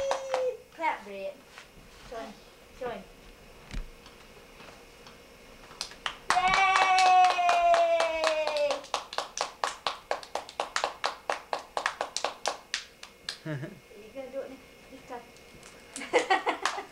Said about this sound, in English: Clap, Britt